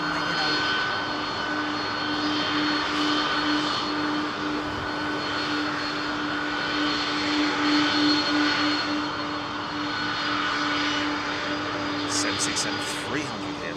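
A Boeing 767-300 sits lined up for takeoff at London Heathrow, its jet engines giving a steady, loud roar and whine with voices talking over it.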